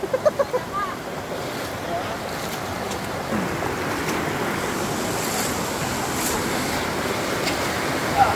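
A strong river current rushes near Talon ni Eva Falls in Bulacan, a loud, continuous broadband roar of churning water mixed with wind buffeting the microphone, with brief footsteps or knocks at the start.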